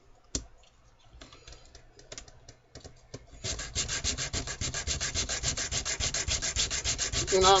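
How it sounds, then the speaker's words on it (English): A hand-made knife scale, already sanded into a wedge on one side, is turned over and sanded on the other: a few scattered clicks and scrapes first, then steady back-and-forth rasping strokes that grow louder and close, with no talking. "I'm going to sand the other side. And I'm just trying to get a nice wedge shape."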